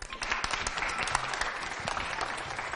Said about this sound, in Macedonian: ова заслужува аплауз